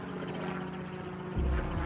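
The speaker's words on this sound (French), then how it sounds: "Un petit hélicoptère noir, biplace sûrement, assez discret mais néanmoins bruyant" A small black two-seater helicopter passes overhead above a property near the jungle, its rotor throbbing as a steady, loud drone that swells slightly at the end.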